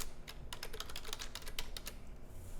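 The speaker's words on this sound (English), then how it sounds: "if we come over here and we type in something like this" Rapid clicking keystrokes on a computer keyboard, close and fairly quiet, tapping in an uneven rhythm with brief pauses, no voices.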